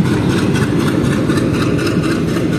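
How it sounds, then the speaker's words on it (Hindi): An uncoupled diesel locomotive of the Jogbani–Saharsa Intercity Express, detached during a loco reversal, running with a loud steady low rumble close by that continues without a break. "तो खुल चुका इंजन और जा रहा है भाई आगे।"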